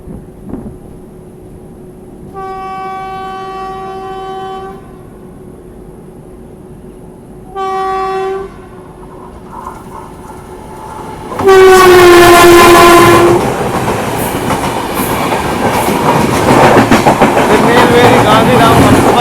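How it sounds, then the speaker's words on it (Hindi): Tirunelveli–Gandhidham Humsafar Express passing Vinhere station, with two loud horn blasts early on, then a roaring rush of coaches and rolling wheels building close by and continuing to the end. "तिरुनेलवेली गांधीधाम हमसफर एक्सप्रेस।"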